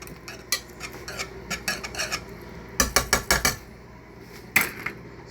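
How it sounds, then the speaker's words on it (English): A wire whisk scrapes and clinks against a pan while stirring melting butter for Alfredo sauce, with quick bursts of metallic strokes, a tight run of rhythmic taps, then a lone clank, all close. "when the butter starts melting, it's good to use this, the wire whisk"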